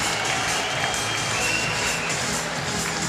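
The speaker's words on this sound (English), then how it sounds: "the Berlin crowd, certainly happy to see the world champ come away with the team elimination win" A velodrome crowd at the Berlin Six Day track cycling race cheers and applauds after a team elimination win, forming a steady, dense roar with no clear pauses.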